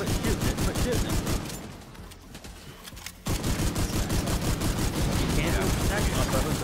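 Rapid video-game gunfire rattles in dense automatic bursts, stops briefly for about two seconds, then resumes at full intensity.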